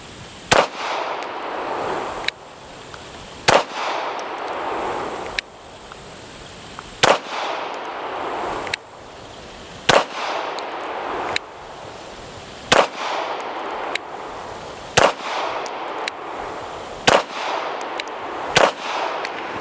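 Sharp, loud shots from a Staccato P4.5 pistol fired at targets 10 yards away ring out singly at a fairly steady pace of roughly one every second or two, each crack followed by a brief echoing tail.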